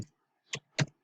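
A computer mouse gives three short, crisp clicks close by in a quiet room, the last two spaced about a quarter second apart.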